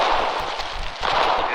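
Mortar fire in Foxhole, a war video game, during fighting in the Deadlands: repeated muffled thumps and distant blasts spread across a constant noisy battlefield din, fairly far off and moderately loud.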